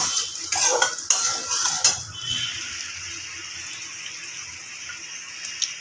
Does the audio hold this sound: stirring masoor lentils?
yes